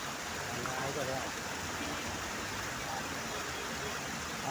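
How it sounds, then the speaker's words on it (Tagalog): A river in Quezon City flows steadily with a continuous broadband rush of water, constant and fairly close with no breaks for the whole stretch. "Dito tayo sa ilog, diba?"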